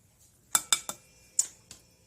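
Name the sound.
mixing sweetheart cookie dough in a bowl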